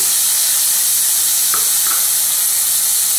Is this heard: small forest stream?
no